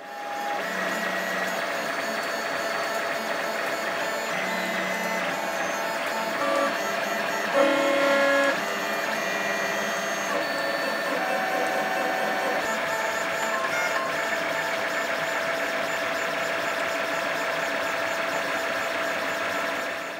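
A 3D printer prints flywheel parts for a BB-8 droid, with a continuous whirring of stepper motors and shifting tonal whines that run steadily at moderate level throughout, without speech.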